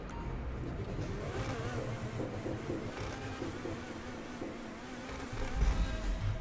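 A Neo sports car drives in GTA 5, its engine a low steady drone with faint revving and a slight surge toward the end, fairly quiet throughout.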